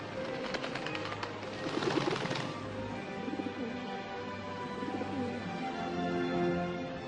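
A dove coos repeatedly in soft, low, rhythmic calls against a steady background wash, with a brief rustling flutter partway through.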